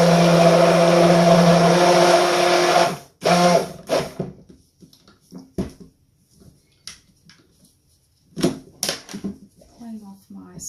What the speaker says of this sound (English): clean off my stick blender